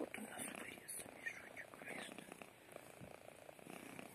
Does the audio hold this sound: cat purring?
yes